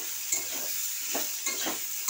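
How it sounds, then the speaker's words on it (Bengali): Chopped onions fry with potatoes in a pan, a constant oil sizzle broken by several stirring scrapes and clatters at irregular intervals, close and moderately quiet, with no voices. "পেঁয়াজ কুচি দিয়ে আমি ভালো করে এটা ভেজে নেব।"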